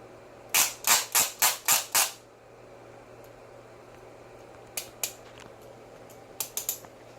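Torque wrench set to 65 inch-pounds on the bolts of a 2010-2015 Prius hybrid battery: six quick, loud, evenly spaced clicks close by, then a few fainter scattered clicks afterwards.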